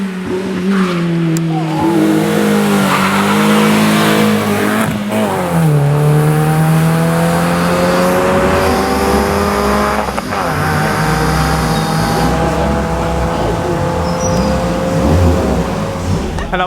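A rally car climbs a hill-climb course at the 2016 Côte des Mamelles event, its engine loud and close, revving hard and rising through the gears in continuous sweeps, with tyre noise underneath.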